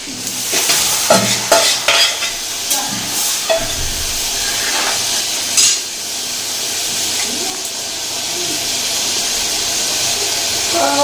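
Dal poured into hot oil tempered with panch phoron and a green chili, bursting into a loud, continuous sizzle and hiss with a few clanks and stirs early on, close and steady throughout.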